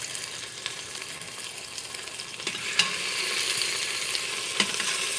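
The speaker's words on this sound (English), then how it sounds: "do you guys hear that sizzle?" Beef stew meat sears in a hot pan with a steady, close broadband sizzle and crackle throughout, a few sharper pops standing out near the end.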